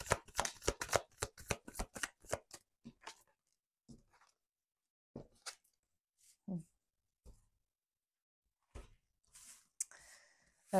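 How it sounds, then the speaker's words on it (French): Tarot cards shuffled briskly in a rapid burst of riffling snaps, then drawn and laid down in a few scattered soft slaps and slides, close and quiet, with no talking. "Je vais aller tirer quelques cartes pour voir un petit peu si on a encore des messages à me transmettre."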